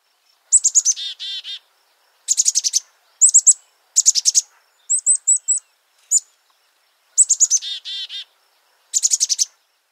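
A bird call plays in the Dinosaur Train game: clear, high chirping phrases of quick notes repeated about seven times with short gaps, crisp and close against silence.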